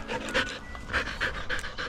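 A dog panting close by in a yard, quick rhythmic breaths repeating steadily throughout.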